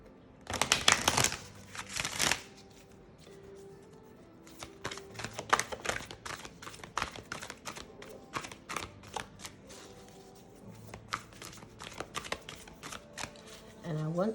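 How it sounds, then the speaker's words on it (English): Tarot cards are shuffled by hand in a series of crisp riffling bursts, with two strong ones at the start, then many quick flicks and taps at close range and no talking. "when I try to shuffle my cards"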